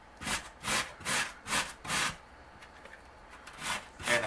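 Potatoes being grated on a coarse grater for hash browns, a run of five rhythmic rasping strokes, then a pause and two more scrapes, close and clear with no talking.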